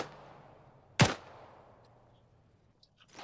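A single sharp gunshot in a military video game near a village, with a quick echoing tail fading over the next second. A few faint clicks follow in an otherwise quiet scene.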